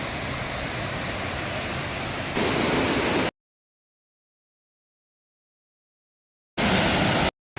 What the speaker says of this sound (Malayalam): മടത്തറ വനത്തിൽ നിന്ന് വാമനപുരം തോട്ടിലേക്ക് ഒഴുകുന്ന ഒരു ചെറിയ വെള്ളച്ചാട്ടമായിട്ടാണ്